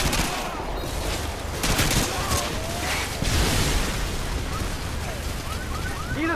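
Gun turrets firing in a Call of Duty Modern Warfare 2 battle, loud dense bursts of automatic fire and booms rolling continuously, with a voice briefly heard in the mix.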